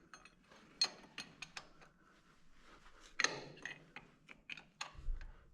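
A wrench works on a bolt on a 1928 Allis Chalmers 20-35 tractor while the tractor is being split: faint, close metallic clicks and ratcheting clanks in an irregular series, ending with a low thump.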